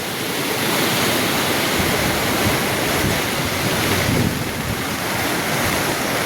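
Rushing floodwater from a river in flood at Panderi village in Konkan, a steady, loud, broadband roar of churning water with wind buffeting the microphone throughout.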